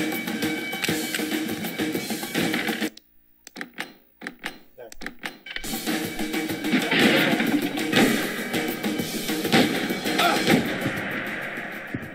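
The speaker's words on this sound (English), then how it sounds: "Two Alpha 1-8, gunshots heard at Winslow Bank, requesting backup." Gunfire in the Xbox game Thirteen rattles in dense, loud bursts with a short near-silent gap partway through, then dense shots resume, mixed with voices.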